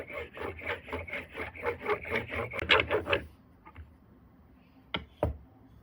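Annealed silver wire is pressed under a steel block and rolled on a steel anvil, giving a quick series of rhythmic rubbing, rolling scrapes for about three seconds, then near silence broken by two sharp metallic taps, close by with no talking.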